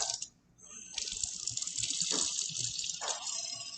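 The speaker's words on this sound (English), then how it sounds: "We'll get you some hot water flowing." Hot water runs from a tap in a steady, hissing gush with a few small splashing changes, close and fairly quiet.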